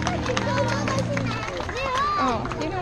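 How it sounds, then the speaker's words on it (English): An audience at a Mid Autumn Festival event in Johor Bahru claps amid crowd hubbub, with voices speaking over the steady patter of hands across the whole stretch. "Round of applause for them."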